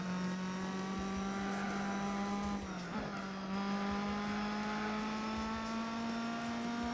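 Steady high engine whine of a Mitsubishi race car in Gran Turismo 4, held at near-constant revs for seven seconds, with a short dip and tire scrub in the middle before the drone rises slightly.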